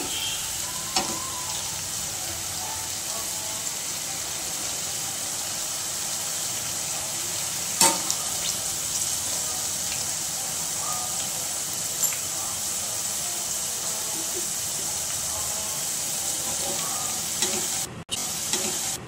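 Okra pakoda pieces deep frying in hot oil for Andhra-style bendakaya 65, a steady close hiss and sizzle with a few brief clinks and stirring knocks.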